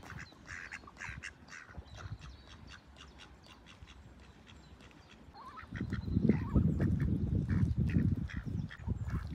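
Ducks quack repeatedly at Todber Manor's Willow Bank fishing lake, sounding as a faint, scattered series of calls that grows busier and louder toward the end.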